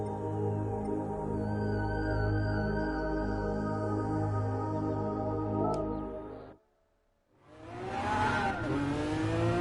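Engine of a Mazda driven in Gran Turismo Sport holds a steady, loud harmonic drone for about six seconds, cuts out briefly, then returns rising and falling as it revs.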